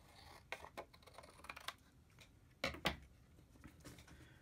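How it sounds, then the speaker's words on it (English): Scissors snip a paper rectangle in half, a few faint, sparse crisp cuts and rustles close by in a quiet room, with no talking. "if I was to cut it in half"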